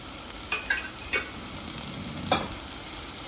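Spices with salt and a little turmeric fry in a pan, giving a steady low sizzle with a few sharp stirring scrapes near the start and one louder stir later.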